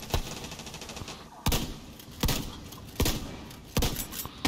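Shotgun blasts in the video game Tom Clancy's The Division 2 boom out at a steady pace, about one every three-quarters of a second, each a loud sharp crack with a short decay, after a quicker burst of gunfire at the start.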